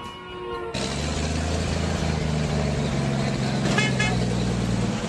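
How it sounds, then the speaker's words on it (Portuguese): An old Chevrolet Pavão pickup truck passes along a roadside, its engine a steady close rumble and its horn honking clearly, loud and continuous across the whole span. "Foi uma caminhoneta Chevrolet Pavão."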